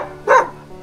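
A single short dog bark rings out close and fairly loud at night near a dark path, then fades into quiet background.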